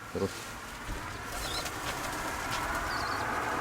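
A pigeon at a loft beats its wings in a short burst of flapping, followed by soft faint cooing and calls against a steady outdoor background, with a person's voice nearby.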